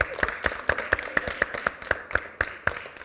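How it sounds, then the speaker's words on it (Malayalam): Hands clap in a quick, steady rhythm, about four sharp claps a second, moderately close and with no talk over them, as a group applauds during a children's Christian talk. "ഇപ്പം ഈശോയ്ക്ക് നല്ലൊരു ബിഗ് ക്ലാപ്പ് കൊടുത്ത് ഒന്നുകൂടെ"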